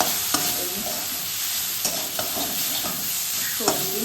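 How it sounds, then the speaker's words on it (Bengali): Beans, capsicum, onion, broccoli and carrot frying in a pan, a continuous bright sizzle broken by a few stirring scrapes and clicks, close and steady with no talk. "সবজি ভাজা হচ্ছে"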